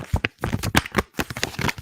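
A sharp knife slices through a piece of thick card in a quick series of crisp, scratchy cuts, each a short bright burst of tearing fiber, close and fairly loud.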